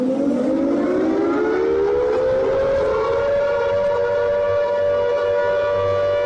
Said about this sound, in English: Is that an air raid siren?